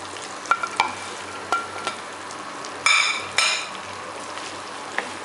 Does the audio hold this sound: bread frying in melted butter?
yes